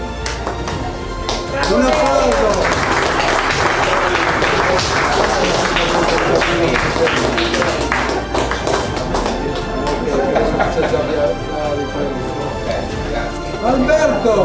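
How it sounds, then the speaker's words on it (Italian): A crowd at an Italian radio amateurs' A.R.P.I. meeting breaks into loud, sustained clapping that lasts over ten seconds, with voices mixed in beneath the applause. "Un applauso"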